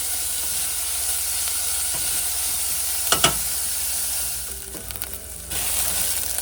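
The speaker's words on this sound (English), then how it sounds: "you want to saute this for probably 5 or 6 minutes, just until it starts to turn translucent and soften" Chopped onions sautéing in a pan with a steady, close sizzle and hiss, broken by a couple of sharp clinks of a utensil midway.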